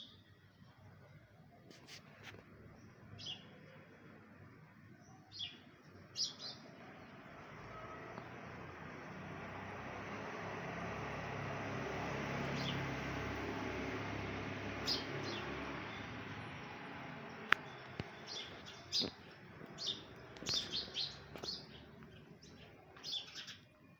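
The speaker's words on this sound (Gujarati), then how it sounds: "ત્યાં બારીમાં બેઠી છે 2 ચકલી." Two sparrows perch at a window of a Swaminarayan temple, giving sparse, faint high chirps scattered over a steady wash of background noise, with a few sharper tweets toward the end.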